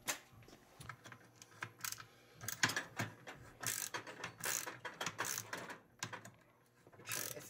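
Craftsman ratcheting wrench worked on snowmobile bolts during 2002 Ski-Doo MXZ 700 skid and shock removal, giving close bursts of rapid ratchet clicking broken by brief pauses and handling knocks.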